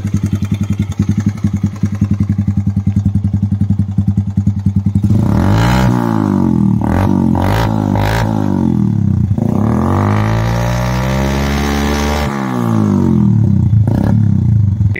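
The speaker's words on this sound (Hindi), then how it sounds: "ये देखिए इंजन का आवाज़।" A Bajaj Kawasaki Caliber 115 motorcycle fitted with an SC projector exhaust thumps at a steady idle, then revs loudly several times in sweeping surges before settling back, close and alone.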